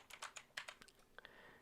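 Typing on a computer keyboard while coding a tower defense game: a quick burst of separate key clicks, fairly close and crisp, with no talk over them.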